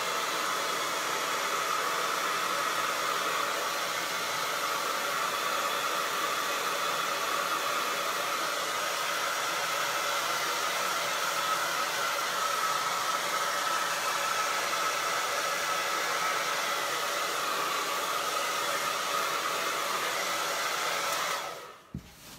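A hair dryer blows steadily on acrylic paint on a canvas, a loud, constant whooshing roar lasting about twenty seconds before cutting off with a brief click, with no talk.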